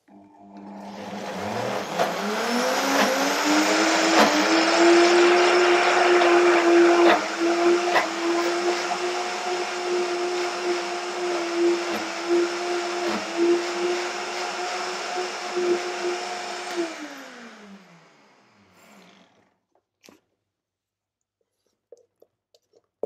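A blender whirs steadily for about fifteen seconds, blending ingredients for a raw vegan recipe after a quarter cup of liquid is poured in, the motor pitch sagging slightly under load before winding down and stopping, with no talk.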